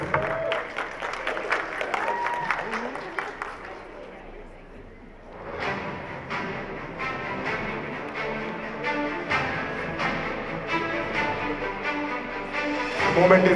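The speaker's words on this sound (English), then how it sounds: "Big round of applause for all our judges." Crowd applause at a fashion show as judges take the stage, clapping over music, dipping briefly midway then swelling back up, moderately distant with some cheering.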